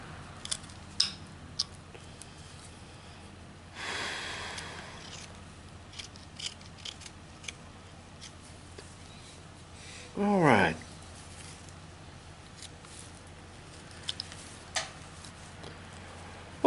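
A whittling knife carves a beginner's wooden figure, making soft scattered snicks and short scraping cuts, faint and close in a quiet room, with one longer rasping stroke partway through.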